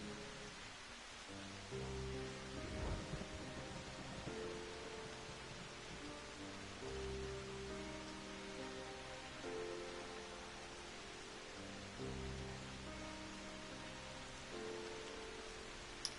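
Steady rain falls in a Final Fantasy XIV scene, a constant broadband hiss with layered game music tones running beneath it, even and unbroken throughout.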